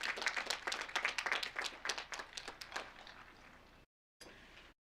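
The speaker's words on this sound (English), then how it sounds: "You could all join me in a round of applause, thanking them for all your teamwork and dedication." At an occupational therapy academic completion ceremony, the audience applauds in a dense, lively burst that gradually thins out. It cuts out briefly, then returns as softer clapping.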